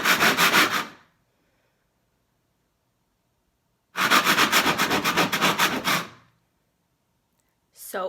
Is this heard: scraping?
yes